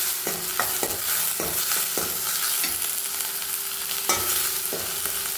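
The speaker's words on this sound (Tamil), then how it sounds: "இப்போ நல்லா நம்ம மிக்ஸ் பண்ணிக்கலாம்." Sliced onions with dried red chillies sizzle steadily in hot oil with mustard seeds, while a spoon stirs and scrapes the pan in a series of sharp, close clinks over the constant frying hiss.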